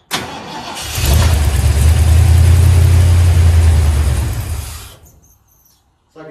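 A 1968 Ford F100 pickup engine cranks over, then catches and roars loudly with a deep, rough rumble for a few seconds before dying away into near silence.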